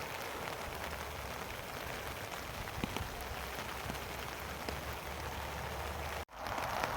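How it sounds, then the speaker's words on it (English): Steady rain falls through the woods at dusk, a dense continuous hiss with scattered drops, close and even throughout, with a brief dropout near the end. "It's starting to get dark now and it's still raining."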